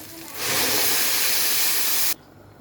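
Water poured into a hot cooking pot holding rice, salt, black pepper, cumin and rice spices, giving a loud, steady steam hiss that rises sharply, holds for nearly two seconds, then cuts off abruptly, with no talking.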